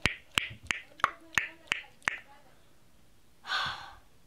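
Loud tick noise made by a person, seven sharp, evenly spaced clicks close to the mic, followed after a pause by a short breathy exhale.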